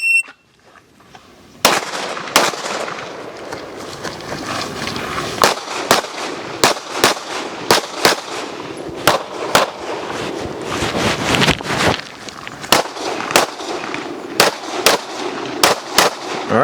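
Gunshots ring out at a USPSA practical shooting range, a long run of loud, sharp reports, some in quick pairs and others spaced apart, heard close with a beep near the start.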